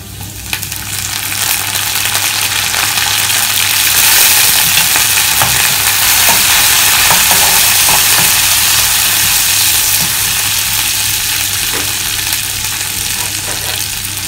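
Curry leaves sizzle and crackle steadily in hot oil while a mango fish curry is cooked, a close, continuous frying hiss with a low hum underneath and no talking.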